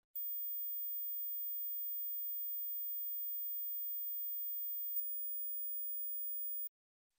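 A faint, very high-pitched steady test tone holds for about six and a half seconds and then cuts off, with only a tiny blip midway and no voices.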